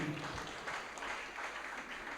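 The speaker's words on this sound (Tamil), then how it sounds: "கைத்தட்டு அதிகமாக வருது." Audience applause at a Tamil debate stage event: a steady, fairly faint patter of many hands clapping for its full length, heard from some distance, without speech on top.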